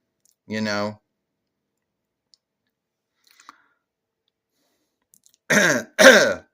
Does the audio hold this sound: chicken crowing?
no